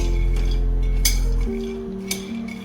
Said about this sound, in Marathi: गॅसची फ्लेम कमी ठेवून आपल्याला ते व्यवस्थित असे भाजून घ्यायचे आहेत चटके बसेपर्यंत शेंगदाणे आपल्याला भाजायचे आहेत